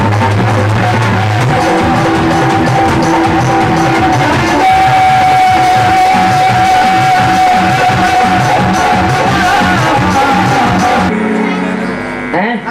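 A crowd at a home jagran sings the devotional bhajan Chalo Bulawa Aaya Hai together with clapping over steady loud music and instruments. The singing is continuous and full, and it thins out near the end.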